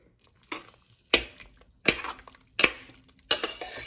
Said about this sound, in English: let's get a spoon and give it a quick stir